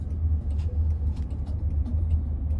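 Steady low road rumble inside a Waymo robot taxi as it drives, a smooth continuous engine-and-tire drone with no talking.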